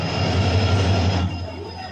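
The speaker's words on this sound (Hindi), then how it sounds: "वास्को से यशवंतपुर तक चलने वाली Vasco D gamma express train आ चुकी है।" An Indian Railways Vasco da Gama Express, running from Vasco to Yesvantpur, pulls into a station with a loud, steady rolling rumble and wheel noise that eases slightly near the end, with no talk.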